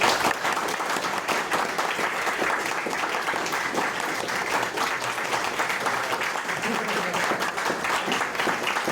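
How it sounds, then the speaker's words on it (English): Dense, sustained applause from a lecture audience at a live talk on a poet and philosopher, a steady wash of many hands clapping at even loudness for nine seconds with faint crowd murmur underneath. "big applause"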